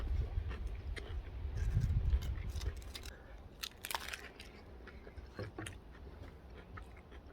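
Crunchy crisps being eaten outdoors, with soft close crunching and chewing bursts that peak early and then thin out to faint intermittent bites over light background noise.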